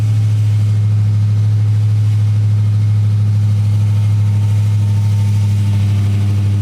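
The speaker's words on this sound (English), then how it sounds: "cold start in a Hellcat" Cold start of a Dodge Charger Hellcat with its 797-hp engine, a loud, steady, deep idle rumble held close and continuously with no voices.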